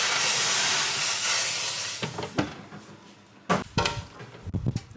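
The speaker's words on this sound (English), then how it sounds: "A little bit of steam." A broad, steady hiss of steam escaping from freshly cooked Tuscan-style flatbreads fills the first couple of seconds, then fades, followed by a few soft clatters and knocks.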